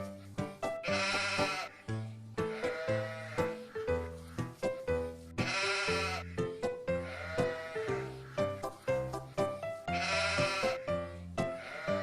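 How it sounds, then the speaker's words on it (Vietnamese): Sheep bleat again and again in a steady run of loud, close, wavering cries, with short gaps between calls and no talking. "Con cừu. Sheep."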